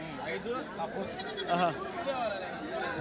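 At the Tuesday goat market in Kadiri, goats let out a few wavering bleats close by amid a crowd's background chatter, with people talking throughout.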